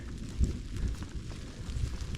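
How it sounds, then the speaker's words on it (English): Low distant rumble of thunder during a rainy woodland hike in Yosemite, a soft rolling boom under steady rain and wind noise, fairly faint and alone without talk. "That's not my stomach from those biscuits. That's thunder."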